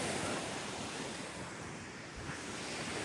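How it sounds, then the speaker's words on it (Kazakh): Steady surf rolls onto a Caspian Sea beach in a continuous, even wash of breaking waves, fairly soft and alone, with a faint wind rush and no talk. "Теңіз жағасында."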